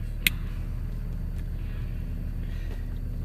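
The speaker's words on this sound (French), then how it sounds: "je fais tourner le moteur de la voiture pour me réchauffer" A parked car's engine idles steadily as a low, continuous rumble close by, with one brief sharp click early on and no talking.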